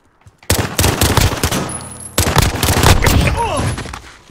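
Rapid bursts of gunfire from a burst weapon in Call of Duty Modern Warfare gun game mode, two loud close clusters of shots with a brief gap between them.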